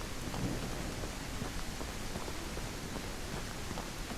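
Rain falls in the survival video game Outbreak Island as a soft, steady wash of noise, faint and continuous, with no other sounds standing out.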